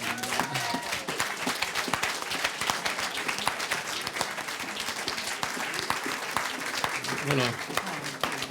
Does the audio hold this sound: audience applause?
yes